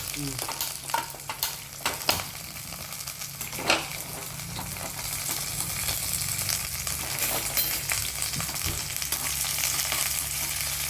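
Mustard seeds frying in hot oil for a mango curry, a constant crackling sizzle up close, punctuated by several scraping stirs and taps against the pan.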